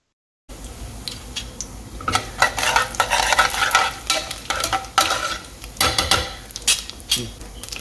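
Fennel and cumin seeds fry in hot oil in a pan as the base for a mutton curry, a steady sizzle broken by repeated scraping stirs of a spoon against the pan, close up.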